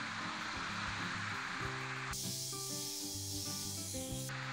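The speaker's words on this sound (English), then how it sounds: "What's possibly wrong with filming yourself sanding a dowel?" Sandpaper rubs back and forth along a wooden dowel in a garage workshop, a continuous gritty scraping with a brief shift in texture partway through, close and steady with no talk.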